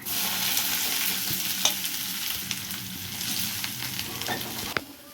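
Vavintaku leaves fry in hot oil with a tempering of garlic cloves, cumin, dried red chillies, chana dal and urad dal, giving a steady close sizzle with occasional stirring scrapes and a sharp clink near the end, no talk.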